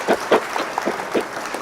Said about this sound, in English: A warm round of applause, please, for Vitaly.